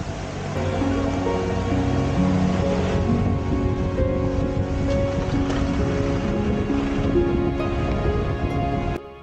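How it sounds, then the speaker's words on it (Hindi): Roaring rush of the Rani Nala waterfall near Rohtang Pass, a broad steady wash of falling water filling the scene at loud, close range with no talk. "एंड ये है वाटरफॉल रानी नाला का."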